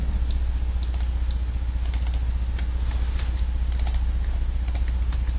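Computer keyboard keys pressed in short irregular bursts of clicks, close and fairly distinct, over a steady low hum.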